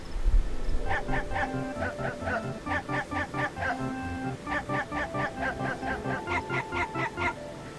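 Dog-barking subscription alert on a livestream, a run of short yappy barks firing in quick rhythmic bursts, repeated several times in a row, with a few musical tones mixed in.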